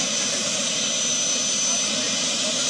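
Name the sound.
presidential jet landing at Abuja airport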